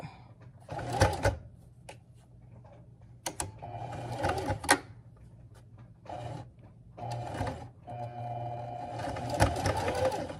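Sewing machine stitching in the ditch along a seam, running in several short bursts of rapid mechanical whirring with brief pauses between them, close and fairly quiet, with a low steady hum underneath.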